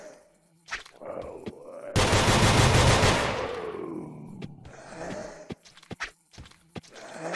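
A creature in a strange indie shooter game fires a sustained burst of loud, dense gunfire lasting about two seconds, fading into scattered shots, footsteps and sharp impacts.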